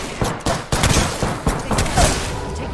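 Rapid bursts of gunfire from an Apex Legends match, loud and close, with repeated sharp shots in quick irregular volleys across the whole stretch.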